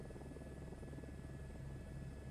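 Helicopter rotor in a flight simulator game, a steady, close whirring drone with a low throbbing hum that holds evenly throughout, with no voices over it.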